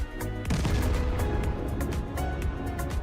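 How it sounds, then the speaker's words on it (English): A strike on a Russian armored convoy of APCs and a tank sets off a big explosion, a heavy boom that bursts in sharply and then rolls on as a loud, sustained rumble with crackling. "The attack ends with a spectacular explosion."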